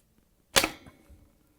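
The middle spray arm of a Bosch dishwasher, part 11011646, is pulled free by hand with a single sharp plastic click, followed by a brief soft rattle that quickly fades.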